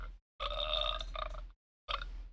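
A burp sound effect triggered from a sound box, a long gurgling belch followed after a short gap by a second brief burp, loud and close.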